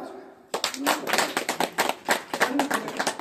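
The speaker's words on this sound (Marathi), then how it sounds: "त्यांच्या नावाने येतात टाळ्या." An audience at a Ramayana recitation breaks into brisk clapping after a moment of quiet, with uneven bursts and a voice talking over it.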